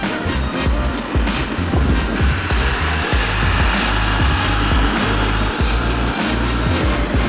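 A 2021 Aprilia RSV4 Factory ridden through slow corners, its engine droning steadily with shifting revs under heavy wind buffeting, continuous and close throughout.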